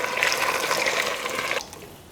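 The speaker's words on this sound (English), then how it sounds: "add some heated water" Heated water poured from a kettle into a pot for penne pasta, a close, steady splashing pour that cuts off sharply near the end.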